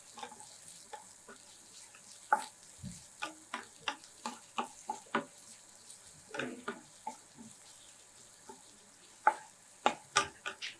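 Onions frying in a pan for a black-eyed bean masala, with crackles and sharp pops repeating irregularly over a soft sizzle, close and fairly quiet, and no voices.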